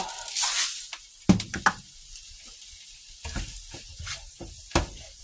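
Food sautéing in a pan gives a light, intermittent sizzle broken by sharp knocks and clatters of a utensil, with quieter pauses between bursts.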